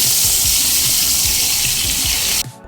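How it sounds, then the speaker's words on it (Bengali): Potatoes fry in hot oil with salt and turmeric powder, giving a loud, steady close sizzle with bubbling crackle that cuts off abruptly near the end. "আলুর মধ্যে দেব আন্দাজ মতো লবণ আর হলুদ গুঁড়ো লবণ আর হলুদ গুঁড়ো দিয়ে নেড়ে ছেড়ে আলুগুলো হালকা লালচে করে ভেজে নেব"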